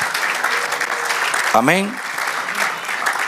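A church congregation claps in a sustained, fairly loud patter during a Spanish-language sermon, and a single voice calls out briefly over the applause midway.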